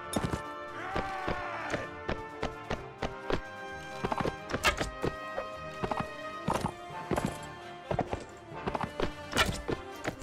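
Hooves clip-clop rapidly as a horse gallops in the video game Mount & Blade: Warband, with sharp repeated thumps in irregular bursts, occasional whinny-like tones and a background of battle clatter.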